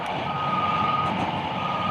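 A construction vehicle near Wakeland High School sounds its reversing alarm, a steady repeating beep over a continuous engine drone, loud and close; excavators, backhoes and cranes are moving sewer pipes nearby.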